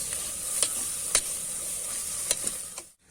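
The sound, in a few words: frying food in a pan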